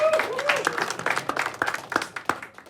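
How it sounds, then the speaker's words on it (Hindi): Studio audience applauds to welcome a guest back on a Hindi comedy news show, a dense run of sharp overlapping claps with a few voices calling out and mixing in. "अंकुश शर्मा का तालियों के साथ स्वागत वापस कर दिया जाए।"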